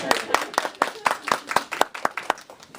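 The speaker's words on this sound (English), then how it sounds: "Oh, clap, clap, clap, clap, clap." About eleven sharp, evenly spaced claps ring out at a brisk steady rhythm during a meeting, close and distinct with no talk over them.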